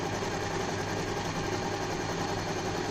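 A Usha Janome Allure DLX sewing machine stitches continuously, its motor whirring in a fast, even mechanical rattle at close range with no pauses.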